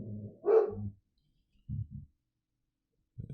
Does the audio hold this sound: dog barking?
yes